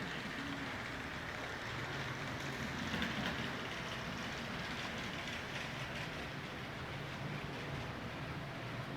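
A model train running on its track at the Twin City Model Train Museum, a faint steady rumble with soft continuous clicking wheel noise, heard alone without talk.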